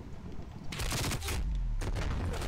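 A video game fires pistols in close, rapid bursts of cracking shots, two dense volleys separated by a short gap, with no talking.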